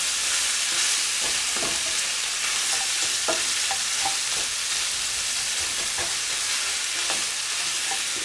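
Salmon and vegetables stir-frying in a pan, a steady broadband sizzle with a scatter of scraping, clicking stirs across the whole stretch, close and continuous with no voices.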